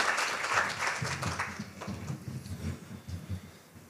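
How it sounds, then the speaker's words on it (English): An audience at an education event applauds, a scattered, moderately distant wash of clapping that tapers off over a few seconds while someone speaks. "How about a round of applause"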